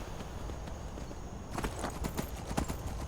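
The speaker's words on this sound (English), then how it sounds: "Oh, it's a horse." Horse hooves clip-clop in a steady walking rhythm in the video game Skyrim, becoming louder and more distinct midway through, over a constant low background hum.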